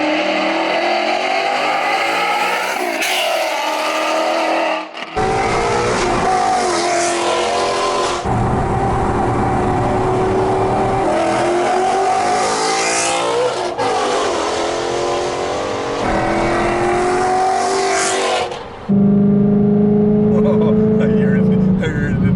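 A 2019 Ford Mustang GT's V8 exhaust roars close up, revving and rising through gears with sharp gear-change breaks, while people talk over the engine.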